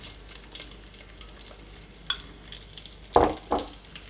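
Onions go into oil previously used for frying gizzard while cooking Nigerian gizdodo, giving a faint sizzle with a few sharp clinks and two louder stirring scrapes near the end.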